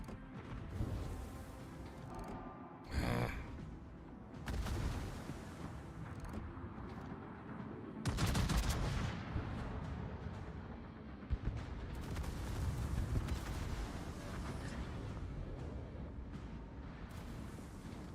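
Heavy naval guns boom in World of Warships, several separate deep blasts spaced across a rumbling sea-battle backdrop, fairly faint overall.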